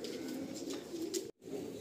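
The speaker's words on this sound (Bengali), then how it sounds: "প্রচুর পায়রা দেখুন না, এখনও পর্যন্ত প্রায় 20-30টা পায়রা ওখানে ধরতে বাকি রয়েছে।" Pigeons of Murshidabad breeds such as Giribaj and Laldom cooing in a loft, a steady low murmur of overlapping coos at moderate level, cut by a brief silent dropout near the end.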